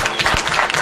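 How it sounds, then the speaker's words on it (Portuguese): A crowd at a political event breaks into brief, dense applause, a burst of many hands clapping close by. "Aí vocês aplaudam, tá bom?"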